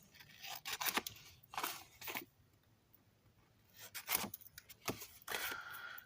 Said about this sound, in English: And I'm going to go ahead and cut these corners.